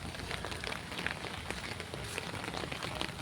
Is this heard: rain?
yes